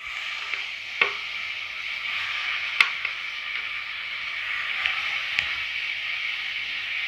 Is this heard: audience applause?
no